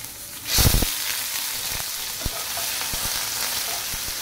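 Chopped tomatoes hit garlic browning in oil for mutton kheema, setting off a sudden loud sizzling burst that settles into steady close frying with a few sharp stirring ticks.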